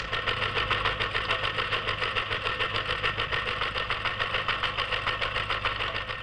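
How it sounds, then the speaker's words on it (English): A 1960s fire station teleprinter in London chatters out an incoming fire alarm message, a steady, loud mechanical clatter with a fast repetitive rhythm and a low hum beneath, running continuously with no voices. "And a message is flashed on the teleprinter."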